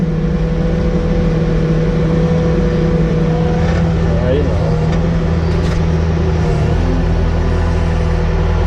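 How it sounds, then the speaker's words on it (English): A Bobcat T650 skid steer loader drives with a loud, steady diesel engine drone, close and constant, and someone talks over it. "So you just simply drive up to the bin."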